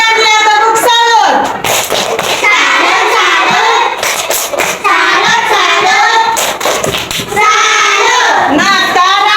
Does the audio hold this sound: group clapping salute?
yes